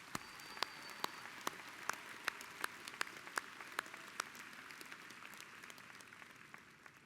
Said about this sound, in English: Will the audience please join me in applauding these honors candidates?